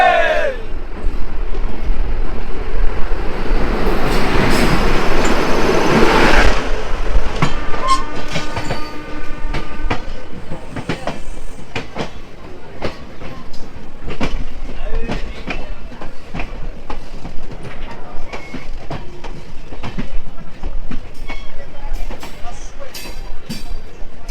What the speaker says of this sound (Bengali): চলে যাচ্ছে আসানসোল মুম্বাই উইকলি এক্সপ্রেস